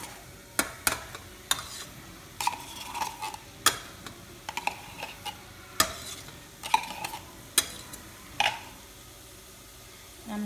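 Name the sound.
stirring tomato paste into pizza sauce in a pot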